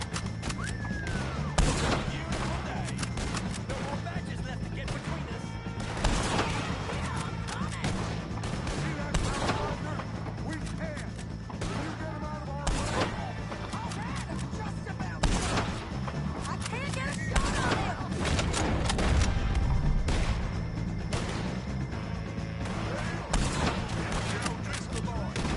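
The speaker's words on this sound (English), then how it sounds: "shoot some of these O'Driscolls" Repeated gunfire and volleys from a shootout against O'Driscoll gang members in Red Dead Redemption 2, with sharp irregular shots and bursts throughout under frequent talking.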